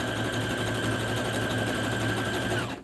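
Sewing machine zigzag-stitching heart shapes in white thread onto a sweatshirt, a steady close whirring hum with rapid even needle rhythm running without pause before stopping at the end.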